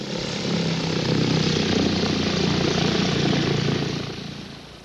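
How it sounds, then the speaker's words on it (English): An early powered airplane in flight in 1909, the first powered flight in Canada. Its propeller engine gives a steady, loud droning roar that holds for several seconds and then fades. "the first flight in Canada by a powered airplane"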